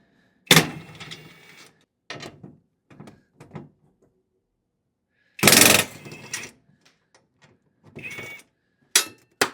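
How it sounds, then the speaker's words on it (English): An impact wrench works the bolts on a hybrid battery pack frame: two loud, close bursts of rattling hammering, each about a second long, set among short clunks and metallic handling noises with quiet gaps between. "Obviously, I'm using this impact wrench, but you could just use a normal hand wrench."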